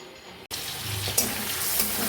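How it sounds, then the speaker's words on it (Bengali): Paneer frying in butter with a little white oil, a steady close sizzle and hiss that starts abruptly after a brief gap and continues evenly, with a few sharper crackles. "পনিরগুলোকে একটু বাটারের মধ্যে ভেজে নিচ্ছি এখানে বাটার আছে আর অল্প পরিমাণে সাদা তেল আছে"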